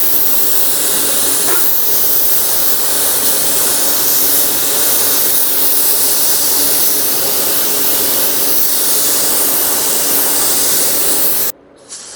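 A budget paint spray gun fed by a small compressor at low air pressure, with fan and volume turned down and the trigger partly pulled, gives a steady, loud hiss of spraying that runs unbroken before cutting off abruptly near the end.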